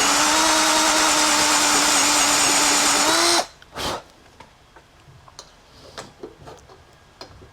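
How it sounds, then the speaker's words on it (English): A loud, steady power drill whines continuously for several seconds drilling an M10 hole through the metal rear mudguard of a Suzuki VL250, then cuts off abruptly, followed by a brief burst and scattered light clicks and taps. "Just going to drill through"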